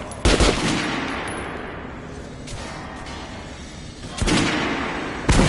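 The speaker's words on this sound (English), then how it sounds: "Head over to my range and try out those guns." Gunshots ring out at a video game shooting range on PS4: loud, sharp bursts come in separated clusters, one near the start, a longer stretch in the middle and two more toward the end, with a lower room-like rumble between them.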